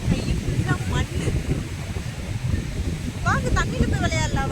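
Ocean surf and wind at Ariyaman beach, a steady roaring wash of waves with gusty wind buffeting the microphone, while children and adults talk and shout nearby.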